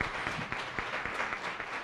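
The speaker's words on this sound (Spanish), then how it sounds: "vamos a dar un aplauso" A seminar audience applauds at the close of an academic talk, a short spell of steady, dense clapping heard from a moderate distance with no voices over it.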